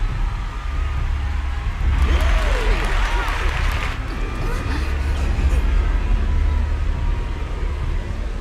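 A crowd cheers in Final Fantasy XIV Dawntrail, a steady roar of massed voices under a low rumble, with a louder swell midway. A voice speaks over it.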